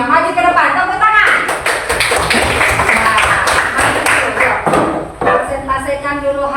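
A class of sixth-grade pupils claps for a group coming to the front of the classroom, a dense run of sharp hand claps that holds steady for several seconds and then thins out near the end.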